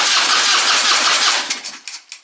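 A Harley-Davidson Dyna motorcycle engine cranks and catches under throttle, a loud, continuous rasping roar that eases in the final second into uneven, sputtering bursts.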